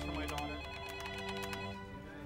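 An office telephone rings with a bright electronic bell, repeated trilling bursts close and loud over a steady low hum of office background.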